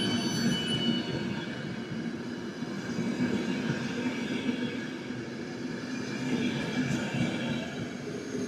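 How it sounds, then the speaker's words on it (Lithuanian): A passenger train with a locomotive runs steadily on rails, a continuous loud rumble of wagons with faint wheel squeal throughout, near and close. "Toks gražus lokomotyvas."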